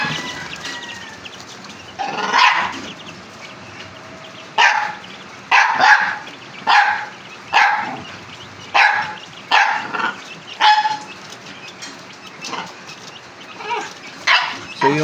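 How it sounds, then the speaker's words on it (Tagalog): A dog barks repeatedly in regular bursts, fairly close, with chickens clucking faintly in the background on a farm raising chicks. "Gawa lang yung aso ko."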